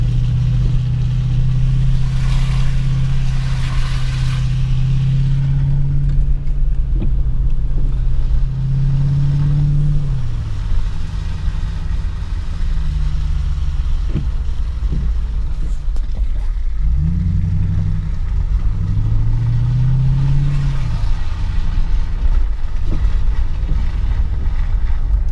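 Car driving through a snowy mountain town at Big Bear Lake, California, with a steady low engine hum and road rumble throughout, shifting in pitch as the car speeds up and slows, plus some wind noise.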